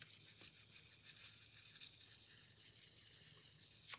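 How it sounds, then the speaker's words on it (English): Continuous rough scraping as an Afrikaans DVD disc is scratched up after its cover has been destroyed, a steady close abrasive rubbing with no break throughout. "And now the disc! Let's scratch it up even more."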